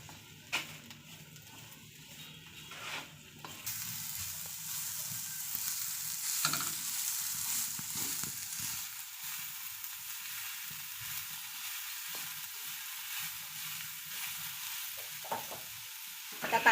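Thinly sliced onions dry-roasting in a pan on a gas stove, a steady soft sizzle and crackle with occasional stirring scrapes, close and continuous with no talking.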